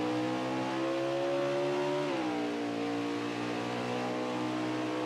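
A race car engine in a racing video game hums steadily at high revs, dipping in pitch partway through as it shifts or eases off, continuous and close with no talking.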